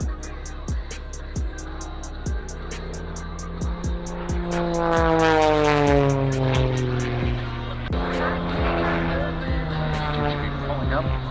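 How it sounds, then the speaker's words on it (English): A jet roars across the sky during the Oshkosh airshow, a loud, steady engine sweep rising and falling in pitch as it passes, with an announcer talking over it. "as that jet just rips through that sky"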